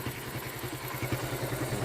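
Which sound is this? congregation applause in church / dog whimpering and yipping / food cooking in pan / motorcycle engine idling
motorcycle engine idling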